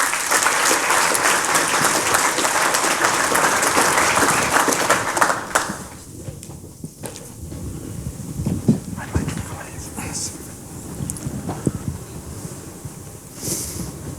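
An audience at a panel discussion on trade and geopolitics claps loudly and continuously for about five seconds, then fades into quieter room noise with scattered claps and movement.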